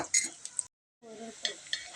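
Crackling, sizzling bursts with metallic clinks, broken by a brief silence, then continuing with scraping and bubbling as elephant foot yam pieces fry in oil for pickle.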